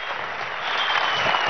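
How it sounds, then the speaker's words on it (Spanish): Audience applause at a university graduation ceremony, a dense, steady wash of clapping from a large crowd that swells slightly toward the end, with no voices over it. "Yo pido un aplauso, discurso de verdad extraordinario"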